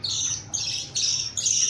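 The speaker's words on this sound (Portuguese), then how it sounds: "Esse aqui é um periquito, um machinho, alimentando os filhotes." A male budgerigar feeding its chicks gives bursts of harsh, scratchy squawks, close and fairly loud, in roughly four repeated pulses.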